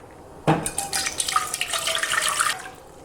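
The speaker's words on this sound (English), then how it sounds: "Then we're going to add 4 cups of cold water." Cold water pours into a pot for a couple of seconds, a bright splashing rush that starts abruptly and then stops, heard up close.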